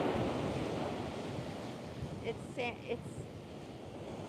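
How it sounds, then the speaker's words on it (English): Strong wind roars outdoors on a beach, a loud, continuous rush with heavy microphone buffeting and surf beneath, while a voice speaks briefly partway through. "The wind's almost too much."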